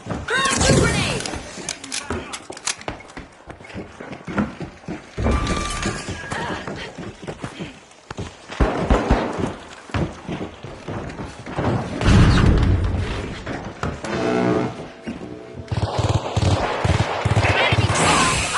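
Grenades thrown and detonating in the shooter game The Finals: a chaotic run of heavy thuds, shattering debris and sharp blasts in loud bursts, with brief gaps between them and gunfire mixed through the din.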